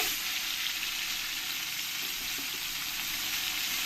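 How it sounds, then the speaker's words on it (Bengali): Silver cup fish fry in hot oil, giving a steady, loud, hissing sizzle that continues unbroken with no talk. "এবার আমি পরের মাছগুলো এই একই রকমভাবে আমি ভেজে নেব"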